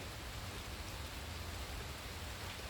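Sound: rain falling with thunder

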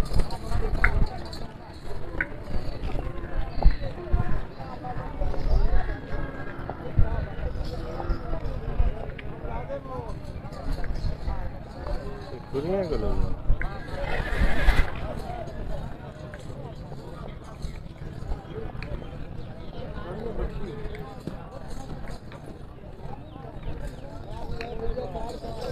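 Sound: mare trotting and neighing

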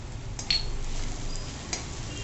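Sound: sautéing sambar masala in a pot

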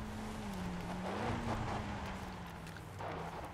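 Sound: truck driving in a video game

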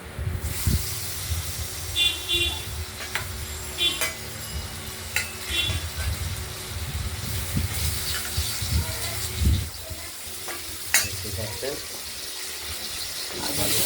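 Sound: potatoes frying in a pan

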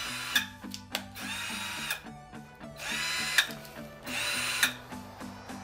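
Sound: battery-powered drill running after waterproofing test

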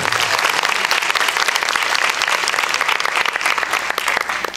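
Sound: church audience applause

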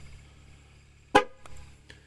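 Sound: 2021 Chevy Silverado 2500 HD horn honking during TPMS relearn

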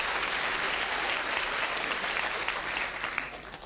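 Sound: audience applauding themselves at Christmas lecture

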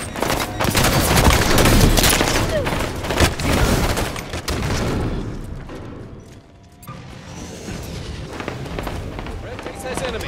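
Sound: gunfire in Halo 5 video game battle

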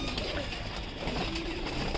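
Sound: pigeons cooing in a loft

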